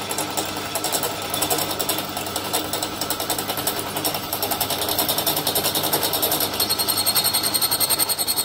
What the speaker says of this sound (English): that is drilling an absolute champ with a pilot hole